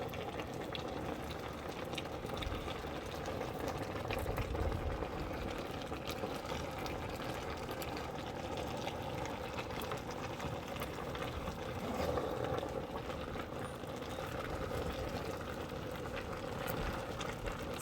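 Vegetable soup with dried shrimp simmering in a pot gives a steady, low bubbling wash that goes on throughout, with faint stirring and liquid movement underneath and no voices.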